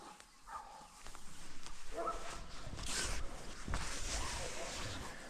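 A dog whimpers with short high whines, then breaks into a few yips and barks, fairly close and moderate in level against shuffling movement.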